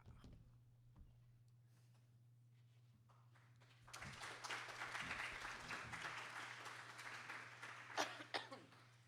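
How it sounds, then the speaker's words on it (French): A few short coughs ring out over a low electrical hum, amid a stretch of scattered clapping and rustling in a room. "tout d'abord, je tousse un peu, mais j'ai pas la COVID"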